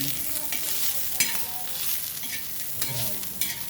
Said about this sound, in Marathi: थोडा लालसर कांदा होत आला की यामध्ये आपण थोडं तेल टाकूया. व्यवस्थित मिक्स करून